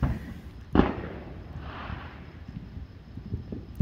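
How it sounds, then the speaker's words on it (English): Fourth of July fireworks go off at a distance. One sharp boom rings out early, then fainter crackles and pops scatter across a quiet outdoor background. "I'm sitting next to my dad watching fireworks."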